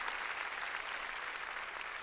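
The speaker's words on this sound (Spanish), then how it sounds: "Démosle palmas fuertes a nuestro Señor." A church congregation claps loudly together, a dense, steady burst of applause filling the room without pause for a couple of seconds.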